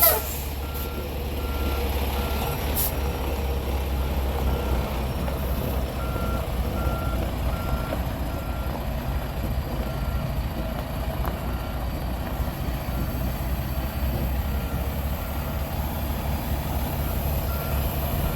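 A truck backs toward a trailer with its reversing alarm beeping steadily over a constant diesel idle rumble. The sound is close and fairly loud, lasts throughout and has no talking.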